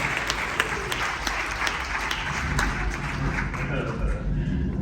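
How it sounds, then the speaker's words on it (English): A crowd at a live stage show gives a sustained round of applause, dense clapping with distinct sharp claps standing out, and murmuring voices mixed underneath. "Give him one more big big round of applause."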